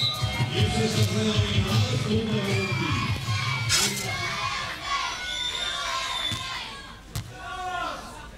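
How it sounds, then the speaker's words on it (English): Tennis crowd noise rising after a long rally, a broad swell of cheering and shouts that fades over several seconds, with a commentator's voice heard alongside. "Oh, the crowd enjoyed that rally."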